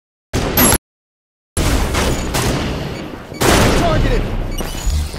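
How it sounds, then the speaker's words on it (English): Sharp, loud bursts of gunfire in a video game firefight, several heavy shots and booms in quick succession with a brief silent gap, sniper fire among them. "Sniper fire!"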